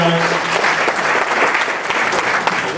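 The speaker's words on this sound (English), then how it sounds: "How about a round of applause for our caterer tonight?" A crowd at a Chamber of Commerce awards ceremony applauds the caterer, dense steady clapping filling the room from start to finish with loud, even intensity.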